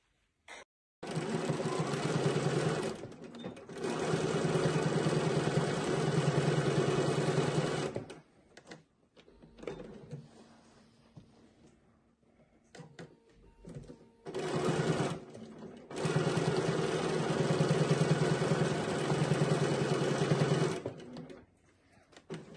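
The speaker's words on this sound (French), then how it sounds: "maintenant je vais passer à la couture juste pour les fixer" A sewing machine stitches handles onto a fabric tote bag in several long, loud, rapid-fire bursts separated by quiet pauses and small handling clicks.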